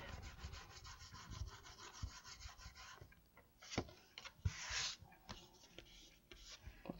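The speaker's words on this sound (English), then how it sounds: "And give it a quick rub from the back." Paper rubbed by hand across the back of a die-cut card, a soft dry brushing texture in quick close strokes with a few sharper scuffs, fairly faint throughout.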